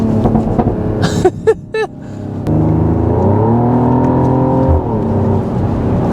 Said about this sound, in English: How is a GLE 53 that barely even pulls like an AMG the best sounding AMG right now?